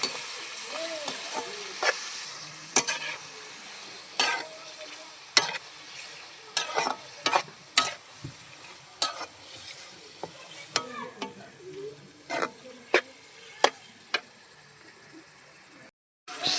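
Fish meat frying in a pan, with a steady sizzle broken by repeated sharp scrapes and clacks of stirring over about seventeen seconds, close and fairly loud.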